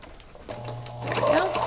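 A sewing machine runs a steady whirring stitch along a log cabin quilt seam, the motor hum rising slightly as it speeds up near the end, close and alone.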